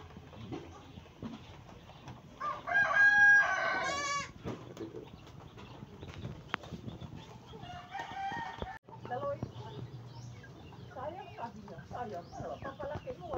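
Turkeys and other poultry on a backyard farm in the provinces give a burst of loud gobbling and clucking calls, with bleating and rooster-like cries around them and someone talking nearby.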